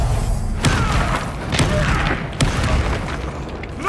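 Spell explosions from a Hogwarts video game, a run of deep booming thuds and bursts about every second over a continuous rumbling layer of game effects.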